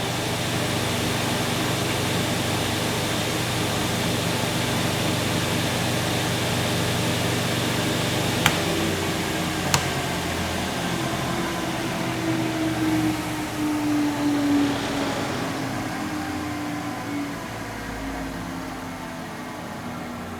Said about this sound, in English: We're going to turn that main motor on. Turn that scoring blade on.